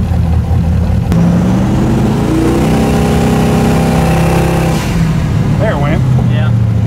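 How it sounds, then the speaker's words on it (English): On a twin turbo S10 engine, the blow-off valve vents once with a sudden burst of air, while the engine drones and revs around it and voices talk nearby. "before we hook the boost controller up, we're gonna test the blow-off valve"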